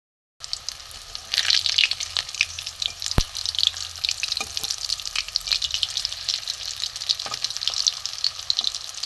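Soybean balls fry in hot oil while being turned, a close, continuous crackling sizzle with scattered pops and one sharp knock early on, no voices.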